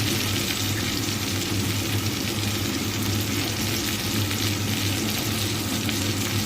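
Broken wheat frying in a pot with added water, for a dalia pulao, producing a dense, continuous sizzle and bubbling hiss that stays loud and steady throughout, with no voices.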